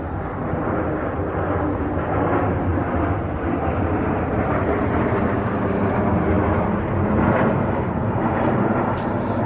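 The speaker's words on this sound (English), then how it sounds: "there's planes flying overhead also, which does not help." Airplanes flying overhead outdoors, a continuous broad low rumble that stays steady and fairly loud throughout with no talking.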